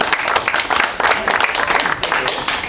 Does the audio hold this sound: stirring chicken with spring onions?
no